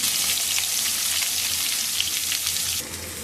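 Onion goes into hot oil with cumin and green chillies, producing a loud, close, unbroken hiss of frying that softens slightly near the end.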